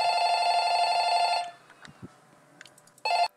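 A telephone rings in a video game: a loud electronic ring holds steadily for over a second, stops, and sounds again in a short burst near the end, with faint scattered game noises between.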